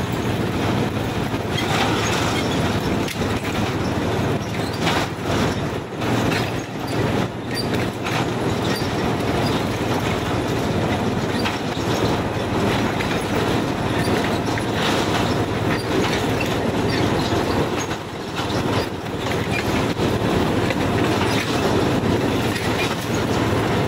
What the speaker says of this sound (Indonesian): kita mendekat ke lokomotifnya